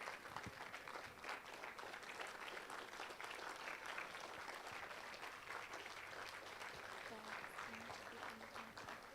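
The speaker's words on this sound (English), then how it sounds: "Can we, with a huge round of applause," Wedding guests at a Nikkah ceremony applaud and cheer in a steady, dense wash of clapping that carries on throughout, with voices mixed into the crowd noise.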